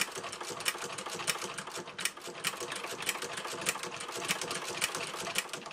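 A vintage straight-stitch sewing machine fitted with a zigzag attachment runs steadily up close, its needle mechanism clattering in a fast, even rhythm with no voices.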